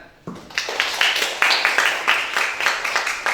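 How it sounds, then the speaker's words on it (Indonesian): A class of students bursts into clapping in a school religious lesson, a close, lively burst of overlapping hand claps starting abruptly after a brief quiet and continuing steadily without speech. "Tepuk tangan"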